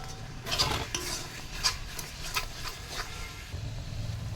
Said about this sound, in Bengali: এবার দিচ্ছি ধনের গুঁড়ো, দিয়ে একটু সুন্দর করে নাড়ি আগে